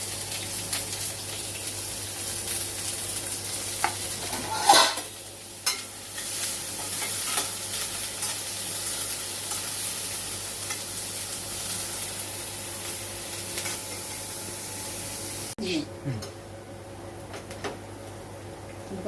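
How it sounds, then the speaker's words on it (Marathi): Chopped onion and curry leaves sautéing in about two spoons of oil, a steady close sizzle with intermittent spoon stirring and scraping in the pan, and occasional clanks. "2 चमचे तेल टाकते आता मी. कांदा, कढीपत्ता आपण छानपैकी परतून घेऊया"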